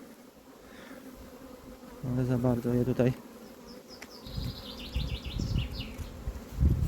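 Honeybees buzz close around an opened hive during a rapeseed honey harvest, their droning hum rising and falling while someone speaks quietly and handles frames and boxes.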